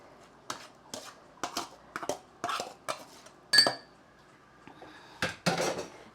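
Spinach is tossed in a cooking pan with utensils, giving a series of sharp metallic clinks and scrapes that come in quick, irregular bursts, fairly close and clear.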